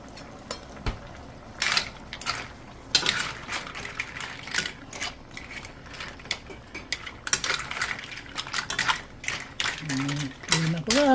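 Clams being stirred with tomatoes in a cooking pan, giving scattered clinks and scraping knocks of utensil against metal. The contacts come in irregular bursts, close by, over a steady low sizzle, with a brief voice near the end.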